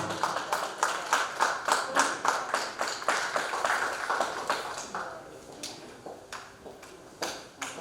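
An audience at a singing competition's grand finale claps in unison, with loud, evenly spaced beats that loosen into sparser, scattered claps toward the end.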